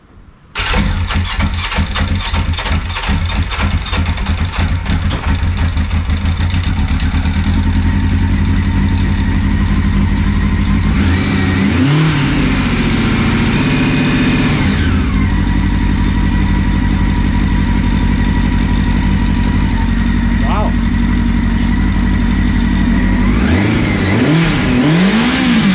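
A Honda Nighthawk motorcycle engine starts and idles loud and close, with a brief choppy lope before it settles. It rises through a few blipping revs and falls back to idle, with no talking.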